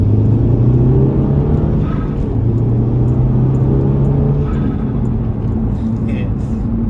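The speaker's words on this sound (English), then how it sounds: "Yeah, love the way the turbo sounds on this car." A rebuilt Pontiac GTO engine fitted with a turbo idles with a steady low rumble and a faint whine, close and continuous, with a voice talking over it.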